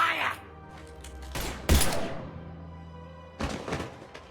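Gunfire in the video game Mass Effect 3, a few separate heavy blasts and thumps spaced apart with brief bursts, set against a quiet background.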